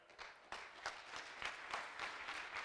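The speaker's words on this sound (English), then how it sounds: "Next round of applause." An audience at a conference closing session applauds steadily, a soft, fairly distant round of clapping that swells slightly and continues for the whole stretch with no voices over it.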